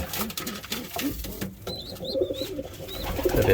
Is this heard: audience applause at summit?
no